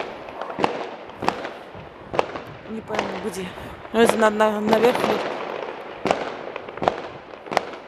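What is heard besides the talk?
fireworks exploding outside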